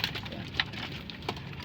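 Pet pigeons in a loft, including a black bird, two chocolate-brown birds, a red check and a red bar, give soft low coos with a few sharp flutters and taps, close by and fairly faint.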